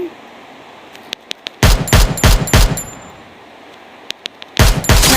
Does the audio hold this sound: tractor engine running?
no